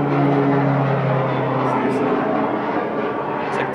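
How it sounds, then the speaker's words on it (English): An airplane passes overhead, a loud steady engine roar that fills the whole stretch with only a slight easing, while a person talks over it. "seriously, it's like 3 planes in a minute."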